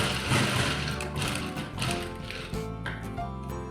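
A sewing machine stitches a ladies shirt in a steady, close mechanical run of rapid tapping needle strokes, with a brief slowdown and restart partway through, and no talking.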